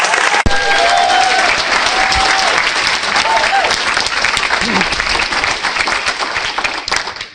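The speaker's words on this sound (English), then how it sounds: "So let's have a big round of applause for Simon Zutshi." Loud audience applause for a speaker at a property networking meeting, a dense, continuous clapping from a crowd with a few cheers and voices mixed in, fading slightly toward the end.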